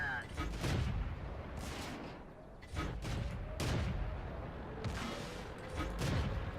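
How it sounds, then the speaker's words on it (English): Tank guns firing in World of Tanks: a series of heavy booming shots with rumbling tails, some overlapping, arriving every second or so over constant battle noise. "I'm just firing shots just to fire shots at this point"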